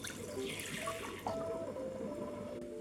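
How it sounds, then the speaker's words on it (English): Water pours into a pot holding kombu, a faint, steady splashing stream that runs evenly throughout. "In a pot, add the kombu and water."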